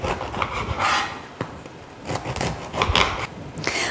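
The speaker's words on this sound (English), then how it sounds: "So I'm just going to take the crusts and the hard sides of the bread off before I cut it into my cubes and bake them." A knife saws and rasps through the crusts and hard sides of a loaf of bread, giving repeated close scraping strokes with brief pauses, heard alone without talk.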